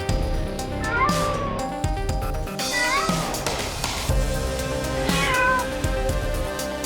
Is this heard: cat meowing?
yes